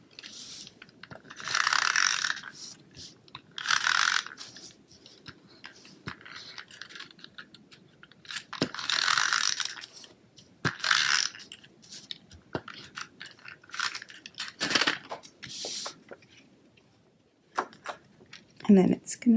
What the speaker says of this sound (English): I'm going to come in with my snail adhesive.